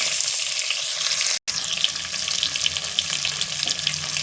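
Eggplant pieces fry in a pan over low heat, giving a steady close hiss and sizzle with small crackles and a momentary dropout.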